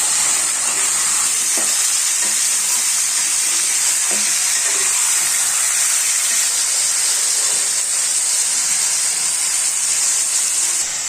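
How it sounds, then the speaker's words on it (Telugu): Chicken fries with onions in a hot pan, sending up a loud, continuous sizzle and steamy hiss, with a few soft knocks as it's stirred; no one talks. "ఇలా చికెన్ అంతా వేసుకొని బాగా కలుపుకోవాలి"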